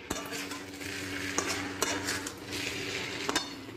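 Katla fish curry cooking in a home kitchen pan, a utensil stirring and scraping with a few sharp clinks over a soft background sizzle, close and moderately quiet.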